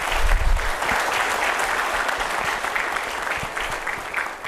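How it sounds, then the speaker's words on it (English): A seated audience at an HR conclave in Noida gives the panelists a sustained round of applause, a dense even wash of many hands clapping that holds steady for several seconds and eases slightly at the end. "A big round of applause for the panelists,"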